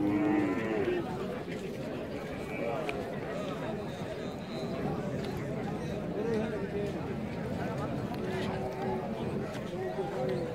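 Local dairy cows with calves at a village cattle market stand amid busy crowd chatter, with people talking close by over a steady murmur and occasional faint lowing and shuffling in the background.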